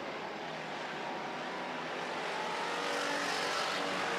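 Pure stock race cars roaring down a dirt oval's back straightaway in a feature race, a continuous dense engine rumble that swells slightly as the pack passes, heard from a distance.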